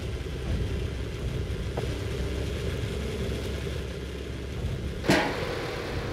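A heavy tank engine in the video game Sprocket rumbles and idles continuously at a steady, low drone, with a single sharp knock partway through.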